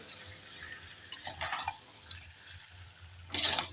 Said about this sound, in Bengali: এদিকে কষাচ্ছি মাংস